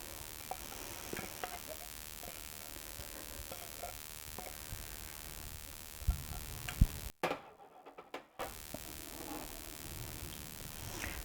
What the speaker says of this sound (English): I'm just going to add it to the pan. You mix it up in the pan.